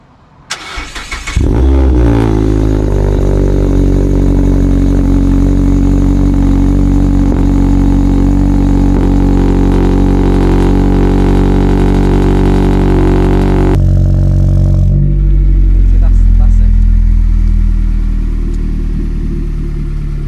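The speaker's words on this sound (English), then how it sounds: "you get to hear what that exhaust system sounds like" A Mazda MX-5 engine cranks and fires, then a loud, deep exhaust drone holds steady before dropping to a lower rumbling idle, close by with no talking.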